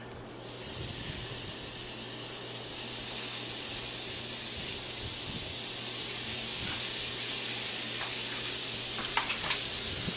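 Steak sizzling in a hot pan, a steady broad hiss that swells slightly louder over several seconds, with a few faint crackles near the end and no voices.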